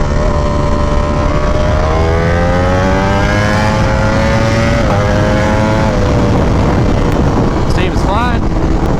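A V4R motorcycle accelerating hard in a lower gear, the engine note rising steadily in pitch under heavy wind noise, then dropping briefly around a shift before climbing again, loud and continuous.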